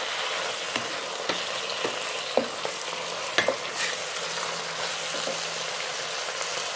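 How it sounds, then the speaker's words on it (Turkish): Zucchini frying in a pan with a steady sizzle, while a utensil stirs through it, giving several sharp scraping clicks against the pan at irregular moments. "ve güzelce karıştırıyoruz."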